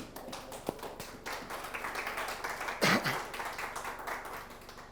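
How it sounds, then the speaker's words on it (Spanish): Clapping from a church congregation during a Torah-portion service, a scattered, moderately faint patter of claps that builds in the middle with a louder burst near the end. "Den un aplauso al Señor si estamos entendiendo."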